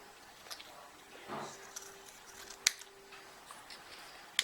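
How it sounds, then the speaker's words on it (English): Scissors cutting paper into strips for a mixed media art card, a few sparse crisp snips, quiet and close, with faint room noise between cuts. "So I just cut them into strips"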